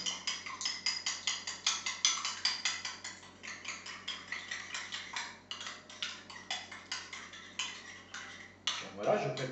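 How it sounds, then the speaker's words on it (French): A utensil beats eggs, oil and sugar for pancake batter in a bowl, clicking fast and evenly against the sides in a steady rhythm that continues nearly unbroken. "Donc je vais le battre comme ça brièvement, je casse les œufs."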